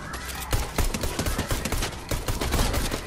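Rapid, steady pistol fire in a video game, dozens of close, punchy shots in quick irregular succession filling the whole stretch.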